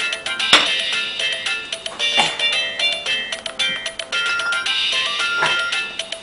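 A phone ringtone sounds in an indoor comedy scene, a bright repeating electronic melody playing loud and alone for several seconds.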